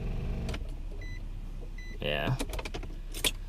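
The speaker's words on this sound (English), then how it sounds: "I just hear the starter just going crazy." A car starter motor spins and whirs in a short burst without the engine catching, with clicks and knocks around it, close by, and a person speaks briefly.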